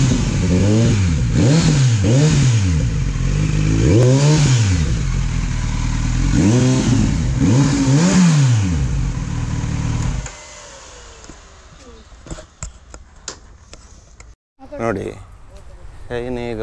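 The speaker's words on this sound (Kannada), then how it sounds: "ನೋಡಿ ಗಾಡಿ ಸ್ಟಾರ್ಟ್ ಆಯಿತು." A superbike motorcycle is started and revved hard in repeated rising-and-falling bursts for about ten seconds, then the engine drops to a low idle while handling clatter and knocks follow.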